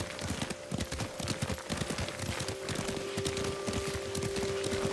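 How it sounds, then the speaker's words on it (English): Rapid clip-clop of horse hooves at a riding pace in the video game Ghost of Tsushima, with a steady ambient bed and a thin sustained tone behind the continuous hoofbeats. "Lord Sakai taught me to ride a horse."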